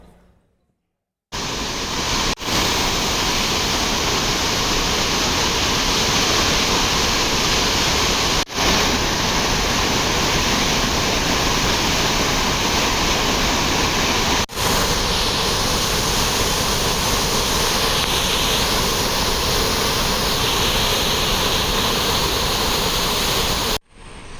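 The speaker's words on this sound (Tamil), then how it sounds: "முக்கிய ஆறுகளான கோதையாறு, பரளியாறு, தாமிரபரணி ஆறுகளில் கடும் வெள்ளப்பெருக்கு ஏற்பட்டுள்ளது" Floodwater released from dams rushes through rivers in a steady, loud, unbroken roar that fills the whole stretch, with no voices.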